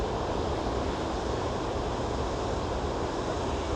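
Gaganachukki waterfall running at reduced flow, a steady, even rush of water that sounds fairly soft and distant, with no voices over it.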